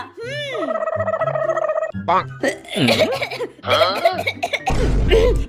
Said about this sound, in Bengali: আমার না খুব কাশি হচ্ছে, একটু জল এনে দে না রে